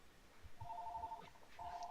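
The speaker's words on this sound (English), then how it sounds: "I'm getting a phone call." A phone rings softly in two short electronic trills, faint and distant beneath a quiet background.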